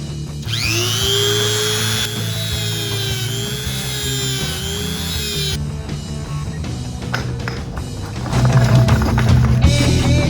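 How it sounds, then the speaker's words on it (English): A Dremel rotary tool grinds down protruding screws on a barnwood table, giving a loud, steady high-pitched whine that runs for several seconds, then gives way to scraping and clattering workshop noises. "I'm going to take a Dremel tool and just grind these down"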